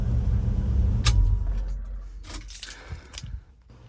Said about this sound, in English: We'll go ahead and turn off the car now.